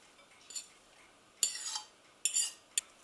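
Chopped red onions and grated sweet potato stirred in a pan, a few distinct scraping clinks of a utensil against the pan spaced out over a few seconds, fairly quiet with no talk.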